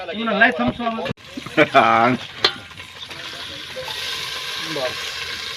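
Chili paste hits hot oil for tempering paneer tikka masala, cooked outdoors on a farm, crackling and sizzling steadily under several people talking, with a brief sharp clatter early on.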